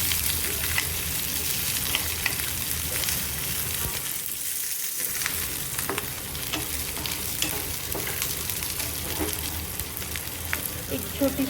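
Onions fry in a pan with a little salt while gravy is prepared for spinach dal khichdi. A loud, continuous sizzle with stirring scrapes runs throughout, briefly dipping midway.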